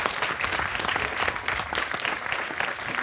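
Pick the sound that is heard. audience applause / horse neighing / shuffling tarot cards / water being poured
audience applause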